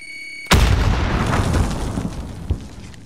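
A frag grenade explodes in Call of Duty Warzone: a sudden, loud, close boom that rolls into a long, rumbling decay, with a smaller pop near the end.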